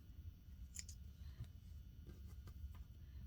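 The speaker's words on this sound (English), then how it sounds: "there's a lot of thread cutting" Scissors snip thread during quilt sewing, giving a few quiet, sharp clicks over a low room hum, close but faint.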